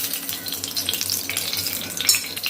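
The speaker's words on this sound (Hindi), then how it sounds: "मैं देसी घी का छौंका लगा रही हूँ," Cow ghee sizzles and crackles steadily as spices are tempered in it, a close, dense frying hiss with no talk.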